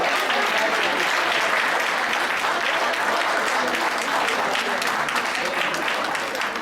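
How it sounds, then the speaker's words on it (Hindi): Crowd at a Hindi kavi sammelan poetry gathering breaks into sustained, even applause, a thick continuous patter of many hands clapping close by for the full stretch. "एक बार तालियां"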